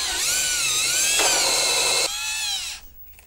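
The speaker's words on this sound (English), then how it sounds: "here's the drill bit that I was talking about" A power drill bores a round hole with a step-style drill bit to mount a back-seat USB charger outlet in a Ram truck, whining steadily and loudly for nearly three seconds with a pitch shift midway before spinning down.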